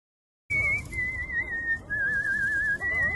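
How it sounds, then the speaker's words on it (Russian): A person whistles a sustained wavering tune up close, starting after a brief silence and continuing with only short breaks. "Никак свистеть здесь вздумал. Не свисти, говорю."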